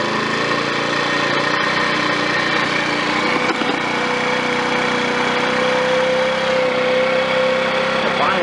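A small scooter engine idles steadily after being cranked, a loud continuous motor drone with a faint buzzing rattle that holds evenly for about eight seconds, close to the microphone.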